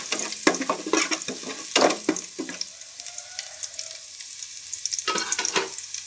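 Garlic fries in a pot, with a crackling sizzle under repeated scraping stirs that comes in bursts, quiets for a moment midway, then picks up again near the end.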